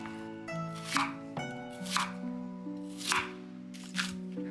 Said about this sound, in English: trim the ends off the onion and slice it into thin strips